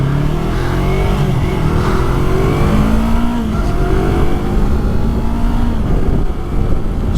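A 2019 Yamaha YZF R3 in matte black accelerates hard up through all six gears. The engine note is loud and close, climbing steadily in pitch with each gear, then dropping briefly at every shift, with no talking.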